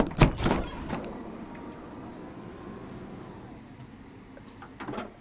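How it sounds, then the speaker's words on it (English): A door swings open to reveal a used motorcycle, with a sharp clatter at the start, a steady mid-level rustle and rumble through the middle, and another knock near the end. "It's time to open the door."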